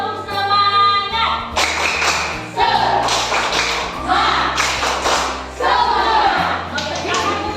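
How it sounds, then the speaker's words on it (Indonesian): A group of children perform a rhythmic spirit clap in a classroom, bursts of sharp hand claps and taps in a patterned beat with pauses between phrases, fairly close, with music and voices mixed in. "tepuk semangat"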